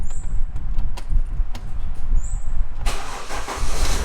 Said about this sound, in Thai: ดูว่ามันจะสตาร์ตติดไหม